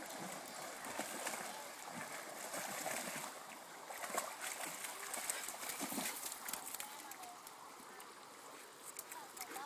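Cooper the dog splashes and paddles through water, a continuous churning of splashes and sloshing at close range, with a person talking at moments.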